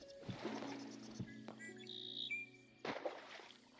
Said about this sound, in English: there is a red-winged blackbird noise while we're in this terrain